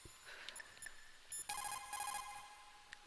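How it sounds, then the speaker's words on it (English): A phone ringing in Metal Gear Solid, quiet electronic ringing tones in short repeated bursts over a faint game background, with no talk. "Answer your phone, you bastard."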